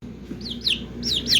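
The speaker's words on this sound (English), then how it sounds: "she's a little banny hen" A young bantam hen chick peeps close by in rapid, high, descending chirps that come in two quick pairs over a low steady background hum.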